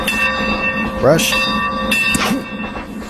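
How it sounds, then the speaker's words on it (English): A steam train runs along the track with a steady rumbling clatter and a sustained whistle-like tone, while people talk over it. "It was fun riding the train with you, bud."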